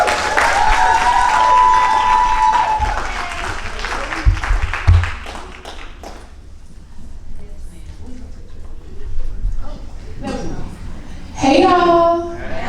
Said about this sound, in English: give a hand, a round of applause for Dave